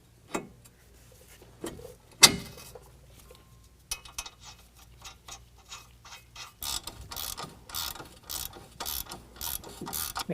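A ratchet wrench with a 15mm socket tightens tie rod end hardware while a Superlift 2.5-inch lift kit goes onto a 2022 Ford Maverick, giving close, quiet bursts of rapid clicking, sparse at first and then denser and steady.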